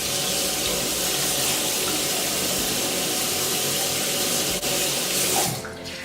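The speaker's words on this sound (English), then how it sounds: "hold it under water until it's fully expanded." A beauty blender makeup sponge held under a running tap, a steady close rush of water that continues without a break and then thins out near the end. No one speaks.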